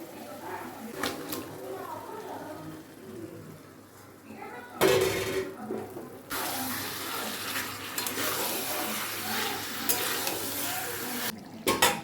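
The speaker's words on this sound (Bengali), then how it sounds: "এই যে এবারে চিকেনটা এর মধ্যে ঢেলে দেবো।" Chicken pours into spices in a pan and is sautéed, with a clatter and rush as it goes in and then a sustained sizzle and scraping stir, while a voice talks in the first part.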